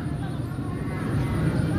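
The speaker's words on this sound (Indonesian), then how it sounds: "Sekarang kita tinggal mutar-mutar. Oke. Sambil ngabisin baterai drone-nya ya." A drone circling overhead while its battery is run down, a steady whining motor hum that stays fairly constant and moderately loud from start to finish.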